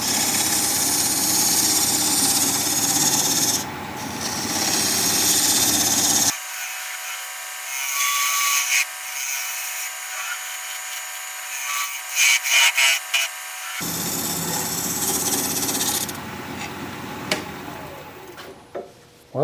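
A wooden flower pot blank spins on a lathe while a 3/8 inch gouge cuts it, giving a steady scraping, rubbing whir with motor hum. The noise drops to near silence for several seconds in the middle, then resumes.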